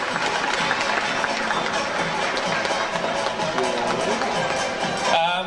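A crowd at a community proclamation event in Hammond, Indiana, breaks into sustained, dense clapping that holds steady and loud throughout, with a brief voice rising near the end.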